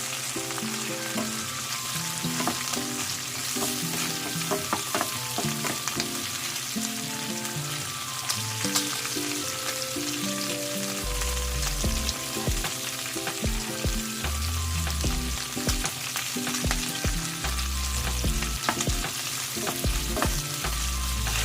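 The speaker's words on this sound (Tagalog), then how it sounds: "So ilagay na natin yung ating sibuyas. Igigisa na natin." Chopped onions sautéing in hot oil in a pan for pork adobo with string beans, a steady loud sizzle and crackle with occasional stirring scrapes throughout, no talking.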